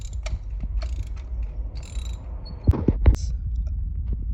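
A ratchet on an extender loosens a spark plug on a Mazda 3, giving faint clicks and mechanical clatter with a few sharper knocks near the end.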